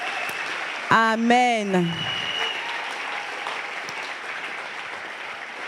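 A church congregation applauds steadily, with a dense wash of clapping that carries on after a voice briefly speaks over the start.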